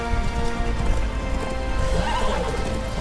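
A horse whinnies and gallops in the video game Darksiders II, with a continuous dense rumble of hooves and game ambience, a rising neigh near the end, loud and busy without speech.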